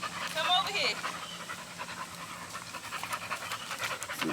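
American Bully puppies pant in quick, soft rhythmic breaths close by, while someone talks over them throughout.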